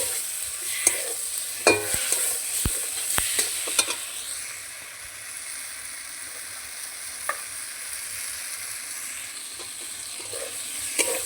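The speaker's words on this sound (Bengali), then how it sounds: "মশলাটা কষা হচ্ছে" Masala spice paste fries and is stirred in a pan, with a steady sizzle and scattered spoon scrapes and clicks, close and continuous, no voices.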